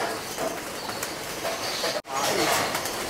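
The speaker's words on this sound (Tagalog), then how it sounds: "Ito na yung mga kalapati namin, mga kalapatids." Racing pigeons in a loft, soft cooing and rustling close by against a busy background, with a brief dropout midway.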